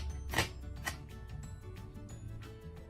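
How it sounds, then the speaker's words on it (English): Knife chopping green onion on a cutting board: a couple of sharp, close chops near the start, then lighter, quieter cuts over steady background noise. "let's chop up some of that green onion"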